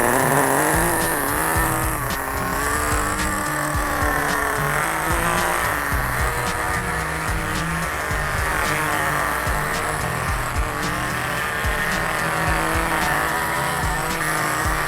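A nitro RC car engine being run in during break-in, driven around in slow figure eights, gives a continuous loud buzzing drone with shifting pitch and steady level throughout, with no talking.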